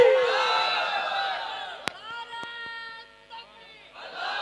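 A religious gathering's crowd answers a Nara-e-Takbir call with a loud, reverberant chorus of voices that swells and then fades, with a couple of sharp clicks partway through.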